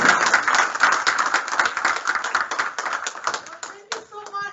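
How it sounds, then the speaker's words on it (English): An audience at a Black History Month and Afro-Latino culture celebration breaks into close, lively applause that tapers off, with a voice starting to speak as the clapping fades. "Round of applause for Dr."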